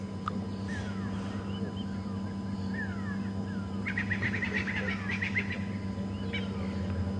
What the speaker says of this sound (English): You can hear the Franklin and go-away birds and some starlings.